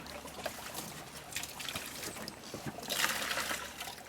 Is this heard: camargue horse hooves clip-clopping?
no